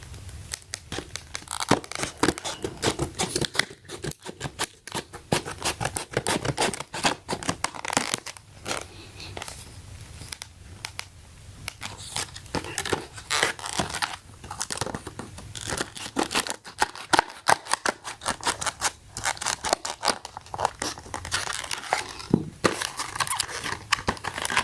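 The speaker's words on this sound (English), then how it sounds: "So let's go ahead and cut this open." External TV antenna packaging being cut and torn open, a long stretch of dense crinkling, snipping and ripping of plastic and tape, close and busy throughout, with no voices.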